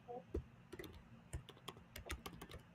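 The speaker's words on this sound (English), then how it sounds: "I am typing." Fingers tap on a computer keyboard in quick, irregular bursts of clicks and a few heavier thumps, close but quiet, with no talking during the keystrokes.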